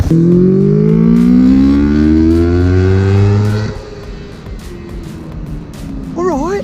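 Loud, busy road traffic mixed with motorbikes, engines revving hard with rising whines close by, then easing off to a lower, rougher rumble as vehicles pass and fade.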